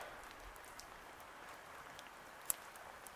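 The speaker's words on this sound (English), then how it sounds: "Lots of rain." Rain patters steadily on a wilderness camp during a rainstorm, a soft, even hiss with scattered faint drop ticks and one sharper tap, with no voices.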